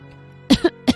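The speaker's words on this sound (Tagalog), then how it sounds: "Napangiti si Lolo sabay bahagyang pag-ubo." Three short, soft coughs from an elderly man close by, two in quick succession and one after a brief pause, in an otherwise quiet room.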